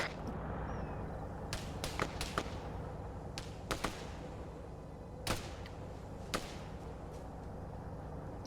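Sharp gunshot cracks fire in scattered single bursts over a steady low rumble, some close and punchy, others thinner and more distant, in the Arma 3 video game.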